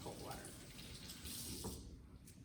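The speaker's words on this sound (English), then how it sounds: "I'm going to turn on the cold water" Cold water runs from a kitchen tap into a sink while an onion is rinsed, a steady faint gushing hiss throughout.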